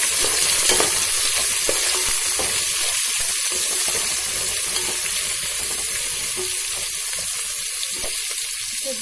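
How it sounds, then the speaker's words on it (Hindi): Onions hiss and sizzle as they fry in hot oil with whole spices in a pot for vegetable biryani, a steady close crackle with occasional stirring scrapes throughout. "पतीले में मैंने ऑयल डाल दिया है, ऑयल गर्म हो गया है। अब हम इसमें सारे खड़े मसाले डालेंगे।"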